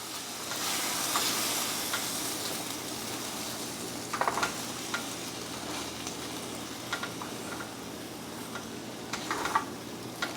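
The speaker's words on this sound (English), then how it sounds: "we're just going to scramble all of this mix together" Eggs, including powdered eggs, being scrambled in a pan for a crescent roll breakfast ring: a steady soft sizzle with occasional scraping stirs and light clicks, close and moderately quiet, with no talking.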